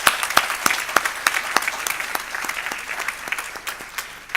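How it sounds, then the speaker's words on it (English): Audience at a university convocation ceremony applauding steadily, with a few sharp claps standing out above the sustained clapping. "Give them a big applause."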